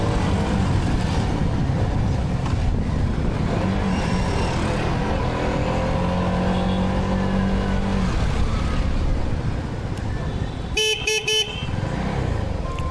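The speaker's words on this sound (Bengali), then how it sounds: "তো বাইকের সাউন্ডটাও এনজয় করতে থাকুন" A CFMoto 250NK motorcycle engine runs steadily on a road in Chittagong, a continuous loud drone mixed with nearby traffic, with a brief burst of car horn honking near the end.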